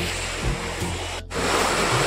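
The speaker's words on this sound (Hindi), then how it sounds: "ये देखिए दोस्तों, पानी जो है कि बहुत ज़्यादा बह रहा है।" Floodwater rushing strongly under a bridge makes a constant, loud broadband roar that fills the scene without a break, with a brief dip near the middle and no audible voices.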